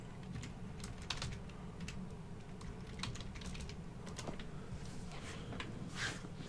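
Quiet, rapid clicking of keys on a computer keyboard, irregular taps in quick runs close to the microphone, with no talking over it.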